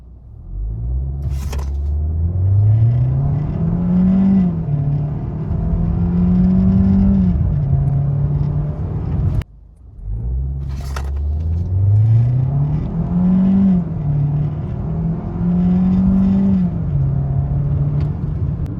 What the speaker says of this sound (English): we're going to launch the car real quick in sport